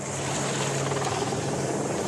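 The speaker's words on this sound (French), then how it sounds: "L'hélicoptère doit parfaitement se positionner." A helicopter hovering steadily while positioning a slung load over a garden, its rotor roar loud, continuous and close for the whole stretch.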